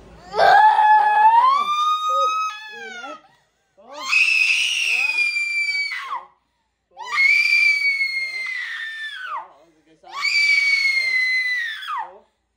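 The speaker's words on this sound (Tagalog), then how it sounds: "Sobrang sigaw yan." A person screams during an exorcism in four long, loud, wailing cries, each rising then holding before dropping away, separated by short silences.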